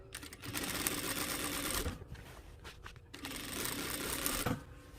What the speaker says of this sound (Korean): 시작하실 때 양쪽 이제 솜과 이제 원단이 서로 이제 씹히거나 틀어지지 않게 잘 손으로 잡아주시고 난 다음에 박음질 해주시면 돼요